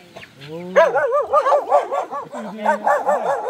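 A dog close by gives a quick run of high, whiny yips and bark-like yelps in uneven bursts, starting with a rising whimper and pausing briefly before another cluster.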